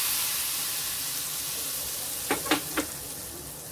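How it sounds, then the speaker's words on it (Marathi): Garlic and mild Kashmiri red chilli powder sizzle steadily in hot ghee for a dhaba-style lasooni palak, a continuous broadband frying hiss with three brief stirring clinks near the end, no voices. "तूप घातलेलं आहे आणि त्याच्यामध्ये मी लसूण घातलेला आहे आणि थोडंसं लाल तिखट घातलेलं आहे"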